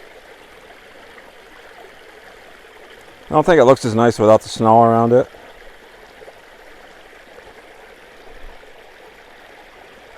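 A small waterfall in a forest ravine pours with a steady, faint rushing wash that runs throughout, while a person talks briefly over it.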